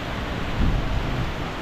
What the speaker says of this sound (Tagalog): Tapos nag-aambon pa, nag-uulan.